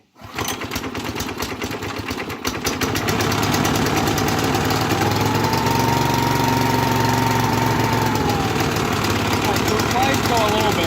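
A small go-kart engine catches and settles into a steady, loud running drone, close by, with a rising pitch after the first couple of seconds as it steadies.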